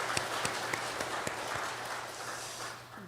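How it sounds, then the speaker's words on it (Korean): A church congregation at an Easter worship service gives a round of applause. The clapping is a continuous, moderately loud wash with a few sharper hand claps standing out, over a low steady hum, easing slightly at the end. "한번 다시 박수하겠습니다."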